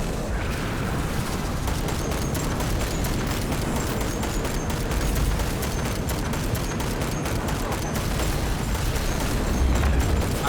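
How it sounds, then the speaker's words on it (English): A 20mm cannon fires nonstop in the Wasteland video game against a sandworm, a dense, loud barrage of rapid booming bursts with no break throughout. "Yes, the 20mm cannon is doing a great job."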